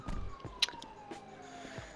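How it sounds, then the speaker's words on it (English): Police sirens in a video game, a faint wailing tone gliding slowly downward across two seconds beneath scattered game sounds and clicks. "I heard a bunch of sirens."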